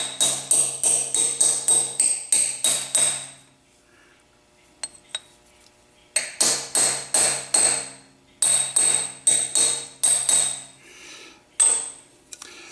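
A hammer taps metal in quick bursts of sharp, ringing strikes while main bearings are driven into a crankcase, pausing between runs; close, loud and clear, with no talking.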